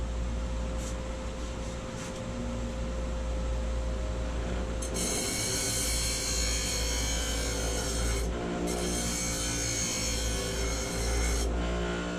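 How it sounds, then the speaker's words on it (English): A woodturning tool being sharpened for a segmented bowl project, with a harsh grinding rasp that starts partway through over a steady low motor hum, pausing briefly twice before resuming, close and loud with no talking. "I think I better sharpen that."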